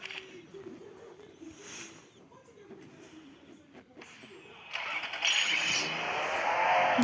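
A car engine in the Free Fire Max video game, quiet at first and then swelling into a louder, steady motor roar and rush during the second half, with a voice talking over it.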